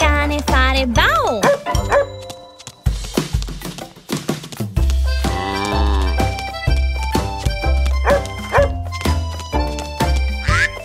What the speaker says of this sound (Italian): Ho guardato il cane fare bau!